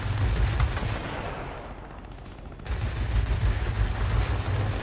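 Aircraft machine guns rattle in dense sustained bursts during a World of Warplanes air battle, loud and close. There is a brief lull before the firing resumes.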